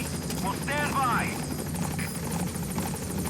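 Support helicopter arriving in the video game Metal Gear Solid V, a loud continuous rotor thump with rhythmic chopping pulses, while a voice speaks briefly over it.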